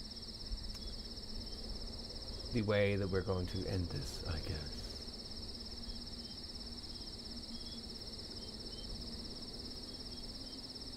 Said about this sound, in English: And now we can actually still hear the crickets.